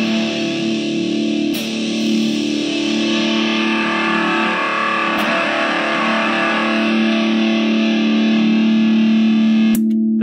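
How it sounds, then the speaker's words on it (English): A cheap Boscatana Mini distortion pedal on electric guitar with the mids cranked for an HM2-style tone, loud, thick, buzzing sustained chords with a few sharp attacks, heard alone. "you crank the mids up, you get a nice HM2 sound"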